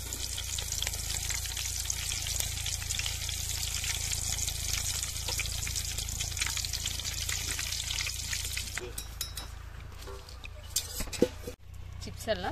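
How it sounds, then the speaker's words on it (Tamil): Curry leaves fry in hot oil with a dense, steady crackling sizzle, then a few clinks of utensils against the pan near the end. "கருவேப்பிலை வந்து பொரிச்சு எடுத்துக்கலாம்"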